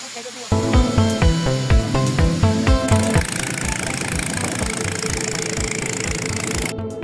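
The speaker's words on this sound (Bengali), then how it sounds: "ইঞ্জিনের শব্দ আর পানির ছিটে মিলেমিশে তৈরি হয় এক রোমাঞ্চকর অনুভূতি।" A boat engine drones loud and close on a river, starting with heavy rhythmic thumping pulses that settle into a steady roar mixed with rushing water spray.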